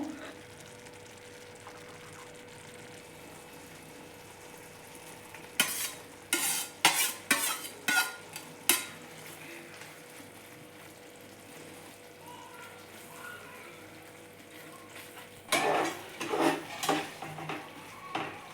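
Fenugreek leaves fry in a methi garlic curry in a pan with a soft, steady sizzle, broken by clustered bursts of a spoon scraping and stirring against the pan, up close.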